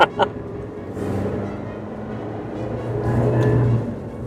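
A 2024 Suzuki Jimny five-door's engine revs on a rough, bumpy road, heard from inside the cabin as a steady, moderately loud drone that rises near the end, with a couple of knocks at the start.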